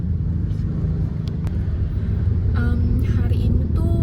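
Road traffic crawling through a rainy traffic jam: a steady, close, low engine rumble fills the whole stretch, with a few brief higher passing sounds over it.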